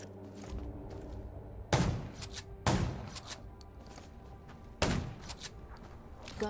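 Several sharp, heavy gunshots in the video game Undawn ring out at irregular intervals, each with a short echoing tail, over quiet mechanical background noise.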